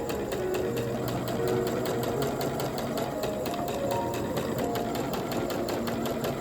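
Sewing machine stitching a quarter-inch seam while piecing a spring quilt banner: a continuous close motor hum with rapid, even needle chatter throughout, no voices over it.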